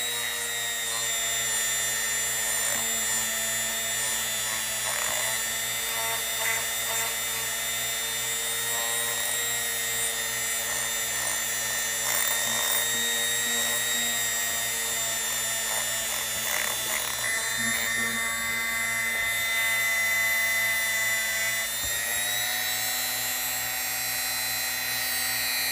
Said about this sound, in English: Right now I just want to knock off the rust, get down to the bare metal.